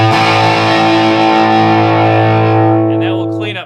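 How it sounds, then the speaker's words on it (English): A Voice of Music EL84 Class-A tube amp driven into raging Marshall-style distortion, one sustained crunchy chord ringing loud for about three seconds before cutting off. "really gets a nice, juicy, raging Marshall kind of distortion"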